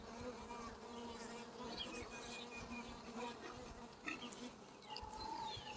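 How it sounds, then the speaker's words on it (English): Calm honeybees buzz steadily around an open hive during an inspection, a continuous drone with individual bees whining past up close, soft and unbroken with no talk. "These nice calm bees, it'd be good for them to go out and mate with some of the other ones in the area."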